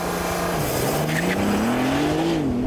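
A Porsche 911 GTS launches hard from a standstill, its engine note climbing steadily through the revs in one loud, continuous pull with a faint tire chirp early on.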